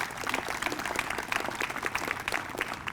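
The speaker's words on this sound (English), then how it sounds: "I really would like to give everybody who participated in this project a very big round of applause" Applause for participants at the grand opening of a STEAM education center, a steady wash of many hands clapping at moderate loudness throughout, with no voices standing out.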